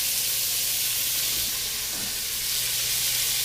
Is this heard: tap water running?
no